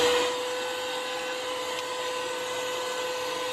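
A small handheld vacuum cleaner runs with a steady, even whine and airy hiss, close and continuous without talk.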